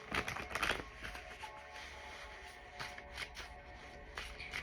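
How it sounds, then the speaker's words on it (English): Crisp riffling and fluttering of a deck of cards being shuffled, in several short bursts close by, with quieter pauses between them. "I'm just gonna give a good shuffle"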